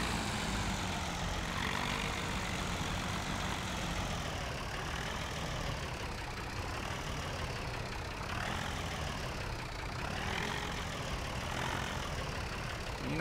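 A small tractor engine in Farming Simulator 17 with the Seasons mod runs steadily, a continuous low droning hum with slight rises and falls in pitch, alone with no talking.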